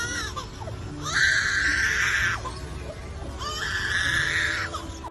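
A mimic bird imitates a crying baby, giving two long, wavering, wailing cries separated by a short pause over a steady background hiss.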